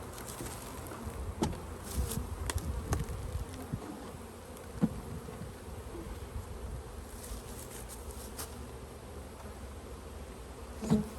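Honeybees drone in a steady, dense hum around an opened hive in Western Michigan during a swarm-cell check, with a few soft clicks and knocks of handling rising above the buzz.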